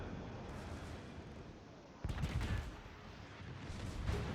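Heavy battleship shells slam into the German cruiser Prinz Heinrich during naval gunfire combat in a warship game, a sharp thunderous impact landing about midway over a constant roar of low rumbling battle noise.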